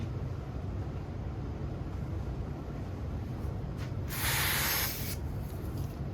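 Spray glue can fired in a single burst of roughly one second to clear the nozzle, a loud hiss rising over a steady low room hum, with a few fainter hisses just before it.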